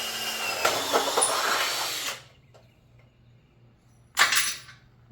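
A power drill bores into a truck that sat for five years: one long, steady whirring run lasting about two seconds, then quiet, then a second short burst near the end, loud and close.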